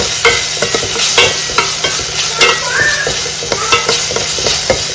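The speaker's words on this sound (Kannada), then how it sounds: "ಜಿಂಜರ್ ಮತ್ತು ಗಾರ್ಲಿಕ್ ಕ್ರಶ್ ಮಾಡಿ ಈ ತರ ಹಾಕಬೇಕು ಚೆನ್ನಾಗಿ ಫ್ರೈ ಮಾಡಬೇಕು" Crushed ginger and garlic fry in a pan, giving a loud, steady sizzle with repeated stirring scrapes and clinks throughout and no voices.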